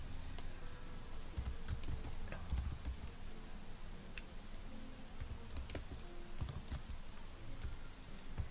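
Computer keyboard typing for a spreadsheet task, a steady stream of close, light key clicks with occasional heavier taps over a faint background hiss, no voice.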